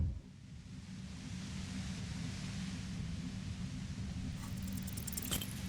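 Steady broadband hiss of violet-white noise near a compressor in the Disco Elysium video game, continuous and fairly loud throughout, with a faint clicky texture toward the end.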